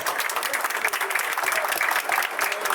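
An audience at a football walk-of-fame ceremony claps steadily, a dense, continuous burst of many hands at moderate loudness with no speech over it.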